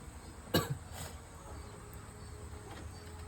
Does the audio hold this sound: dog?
no